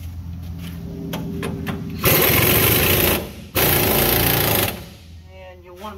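An impact wrench tightens the drag link on a Peterbilt 379 truck, giving two loud sustained hammering bursts of about a second each with a brief gap between them, preceded and followed by quieter workshop noise.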